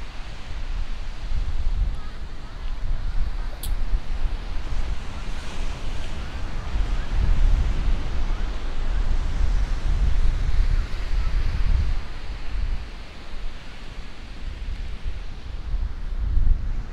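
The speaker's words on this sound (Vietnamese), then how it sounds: "Gió thì nó mang hơi nước biển ra bởi vì lạnh." Steady sea wind blowing along a beach in Taiwan at sunset, a continuous loud low rumble with gusting buffets against the microphone and surf beneath, no talking.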